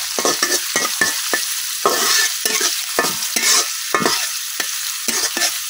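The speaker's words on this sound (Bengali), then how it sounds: "পেঁয়াজ আর রসুনটা লাল লাল করে ভাজতে দিলাম।" Onion and garlic sizzle in a pan as they fry for a tomato and red lentil dal, with a steady bright hiss punctuated by a quick, rhythmic series of stirring scrapes, close up with no talking.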